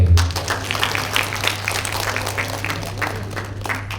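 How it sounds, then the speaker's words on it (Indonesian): An audience at a small-business talk claps briefly, a moderate patter of hands over a low steady hum, fairly even throughout. "Tepuk tangan buat HMP."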